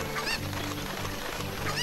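Chickens clucking in Zelda: Ocarina of Time, with a dense, loud flurry of squawky, honking clucks repeating over a busy game background.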